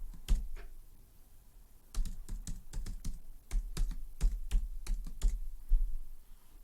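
Fingers typing code on a computer keyboard, irregular bursts of close, crisp key clicks with short pauses between runs.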